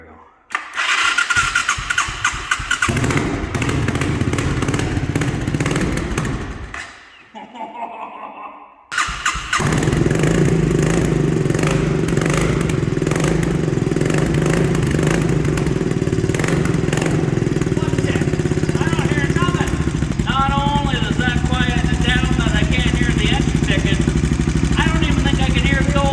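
A Suzuki 650 motorcycle fitted with a modified exhaust cranks and fires up after a short pause, then runs loud and steady close by with repeated revs; a brief cutout and restart appear early on.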